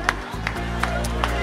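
Crowd applauding runners at the podium of a 10 km race at the Semi-Marathon des Olonnes in Les Sables d'Olonne, a steady outdoor wash of clapping with a few sharper accents and a low hum beneath.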